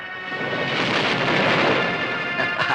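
Heavy rain falls while thunder rolls, a broad, sustained roar of rain and rumbling thunder filling the scene with no voices.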